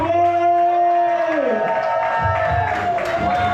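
A crowd at a bank holiday weekend DJ set cheers and whoops for the DJ as a sustained electronic tone fades out, the voices loud and close, blending shouts with scattered clapping.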